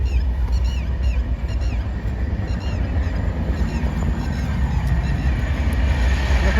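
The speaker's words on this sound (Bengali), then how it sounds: "এখান থেকে ট্রেন যাচ্ছে" A train rolls past close by with a loud, steady rumble and rhythmic rattling, with faint squeals riding above the roar.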